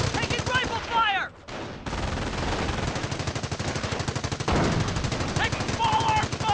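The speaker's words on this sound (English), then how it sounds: "Taking small arms fire!" Small arms fire rattles through a battle in the Company of Heroes video game, dense rapid bursts of machine gun and rifle shots that run almost without a break, loud and close, with a brief lull early on.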